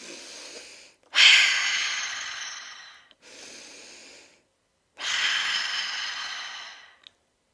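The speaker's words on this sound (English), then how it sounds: "let's just take a few deep breaths" A person takes three slow, deep breaths through the nose, heard close and alone. Each is a long airy rush that fades gradually, separated by short silences.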